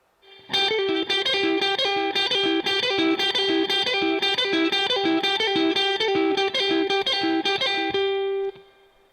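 An electric guitar plays a lick with pull-offs, a loud, distorted run of rapid, evenly repeated notes lasting several seconds before ringing out and stopping.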